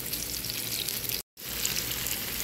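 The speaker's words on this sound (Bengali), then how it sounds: "এখন এখানে পটলগুলো দিয়ে পটলগুলো ভেজে নিব, দুই পাশ বাদামি করে পটলগুলো ভেজে নিব।" Pointed gourd pieces fry in olive oil in a frying pan, giving a steady, close hiss and crackle that stops for a moment midway, with no voices.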